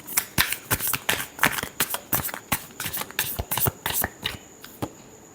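Tarot cards shuffled by hand up close, a rapid series of sharp papery riffles and slaps, about two dozen quick bursts in an uneven rhythm, with no talking.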